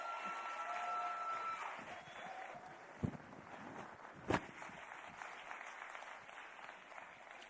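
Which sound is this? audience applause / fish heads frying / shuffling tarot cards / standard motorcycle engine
audience applause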